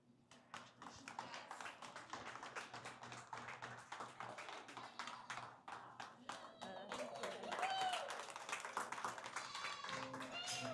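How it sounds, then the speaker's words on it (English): Audience at a dairy goat show in a large arena claps for the senior showmen, a steady run of close, crisp handclaps lasting several seconds and swelling near the end, with a voice briefly speaking over it. "please once again welcome them with a nice round of applause"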